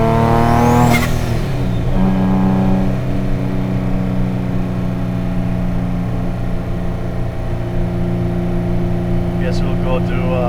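A boosted Nissan NISMO engine revs hard up to the limiter and bounces off it, then settles into a loud, sustained drone heard from inside the car.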